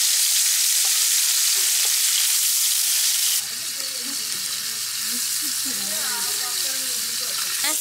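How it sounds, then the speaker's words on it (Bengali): Large belly pieces of chitol fish fry in hot oil for a curry in a rural village kitchen, a loud, hissing sizzle that cuts in abruptly partway through and then bubbles and crackles steadily. "বড় বড় চিতল মাছের পেটি আগে ভেজে নিচ্ছে তরকারি রান্নার জন্য।"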